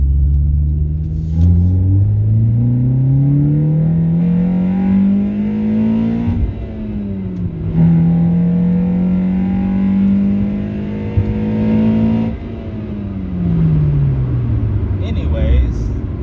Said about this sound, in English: let's do a second gear pull here so you can hear this K&N intake and Greddy exhaust.